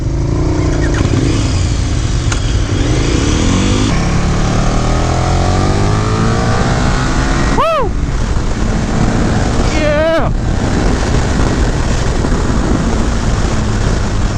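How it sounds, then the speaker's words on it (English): A 2018 KTM 1290 Super Duke GT motorcycle engine rumbles steadily under strong wind noise, and two sharp exhaust pops crack out a few seconds apart. "burble and backfire on exhaust"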